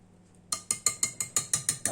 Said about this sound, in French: Alors là, on va le mélanger avec une cuillère.